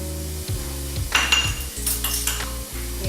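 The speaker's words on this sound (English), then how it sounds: "I'm just going to saute those together to bring out the flavors" Shallots and garlic sauté in a pan; metal utensils scrape and clink against the cookware over a soft sizzle, close and fairly loud, with no talking.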